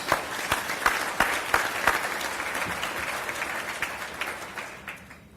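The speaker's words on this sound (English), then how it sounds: "Please give our Bessie B. Moore Hero sponsors a round of applause" An awards luncheon audience applauds steadily, dense clapping with a few sharper claps standing out, gradually thinning and fading toward the end.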